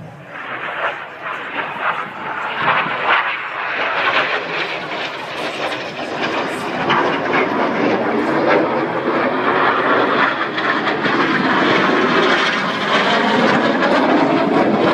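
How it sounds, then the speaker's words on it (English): Red Arrows Hawk jets passing low over a runway at speed during an air display, a broad roaring jet sound that swells and stays loud toward the end, with a commentator talking over it. "Synchro now descend down the hill back to 100 feet above the runway, flying at over 400 miles an hour each."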